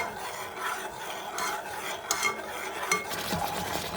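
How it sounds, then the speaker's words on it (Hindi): Homemade mango jam is stirred in a pan over a high flame, a spoon scraping and rasping at close range with quiet bubbling underneath and a few sharper clicks against the pan. "इसको हम लोग 5-7 मिनट के लिए हाई फ्लेम पर पकाएंगे"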